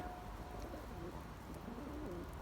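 Pigeons in a loft give soft, low cooing calls, a few faint warbling coos over a quiet background hiss.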